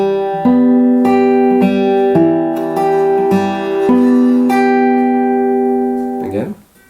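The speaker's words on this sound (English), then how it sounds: "So all together, really slowly, the picking pattern should sound like this." Acoustic guitar fingerpicking pattern for a song, played slowly with distinct plucked notes at an even rhythm, ringing clearly and close, ending with a brief scrape.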